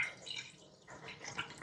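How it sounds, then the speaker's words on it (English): Water streams from the faucet of a Frizzlife M800 tankless reverse osmosis filter, a soft close splashing and trickling with brief droplet accents, faint and without talk. "Pretty good water flow too. It's coming out there pretty quick."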